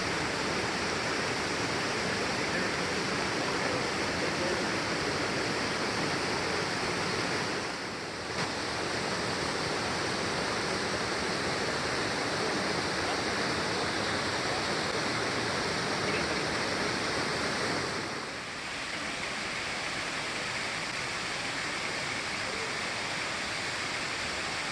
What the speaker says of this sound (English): There are also fewer waterfalls in the lower lakes, but they tend to be much more dramatic.